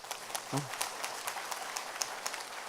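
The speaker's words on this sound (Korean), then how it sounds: "박수 쳐보세요." A seated audience at a company presentation claps in scattered, fairly light applause, with a short vocal sound near the start and a steady room murmur beneath.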